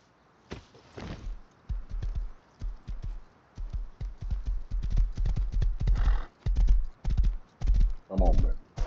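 A horse's hooves clip-clop in the Rust video game, a steady run of close, sharp hoof strikes in an even rhythm, with a brief whinny near the end and someone talking over it.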